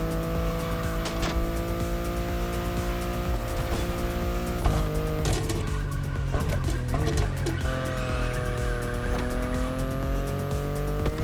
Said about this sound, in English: The BMW i8 is a car that stands out from the crowds.